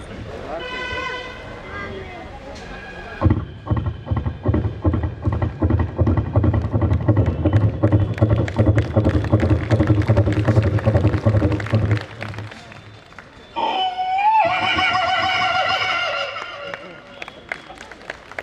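A voice imitates a horse galloping, a long rapid run of rhythmic clopping beats, then breaks into a rising neigh-like whinny, loud and close, with talking before and after.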